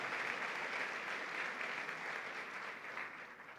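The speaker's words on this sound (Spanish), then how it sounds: "Fuerte el aplauso a nuestro Señor y Salvador Jesucristo." Faint, distant clapping from a church congregation, an even wash of applause heard from far off and steady throughout.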